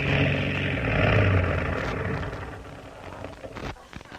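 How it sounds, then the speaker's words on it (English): An old car engine cranks and turns over as a radio sound effect, a loud rumbling drone that swells near the start and then slowly tapers off, with no voices. "Start the engine, Pedro."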